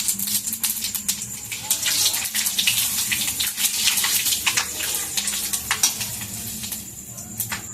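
Panch phoron spices sizzling in hot oil in a wok, a steady loud crackling hiss with sharp pops throughout, no voices.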